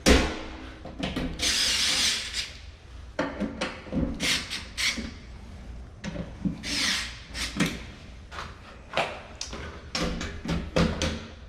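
A power drill drives screws during a condo inspection, with repeated short whirring bursts that start and stop, separated by knocks and handling noise, fairly close.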